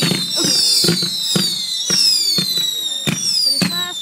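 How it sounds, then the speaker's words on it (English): Backyard fireworks display with whistling rockets, a fountain-style tree and jumping fireworks shooting from a box: sharp bangs and crackles burst roughly every half second over a continuous, gliding high whistle. "jump fireworks are coming out of the box, and that is a bomb"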